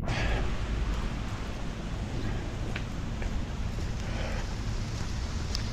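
Steady evening rain in Montreal during a walk from Joliette metro station, a continuous close hiss of falling rain on the street with low rumbling background noise, no voices.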